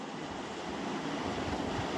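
Hot tempering with chillies is poured into banana stem kichadi, giving a close, steady, even sizzling hiss that lasts throughout without any talking.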